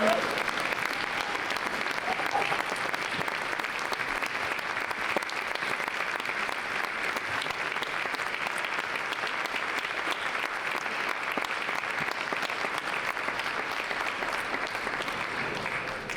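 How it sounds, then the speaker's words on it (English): Sustained audience applause at a panel discussion event, a dense steady wash of clapping from many hands lasting throughout without pause, fairly loud and even. "Can you please give them another round of applause"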